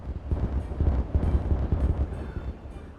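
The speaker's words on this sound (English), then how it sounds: "Let's celebrate our survival with explosions." Explosions in the video game Timberborn boom through the clip as a series of deep, rumbling low blasts, fairly quiet and continuous with several overlapping thumps.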